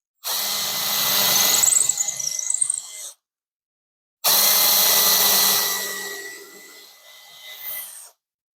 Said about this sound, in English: Here we'll drill 2 holes.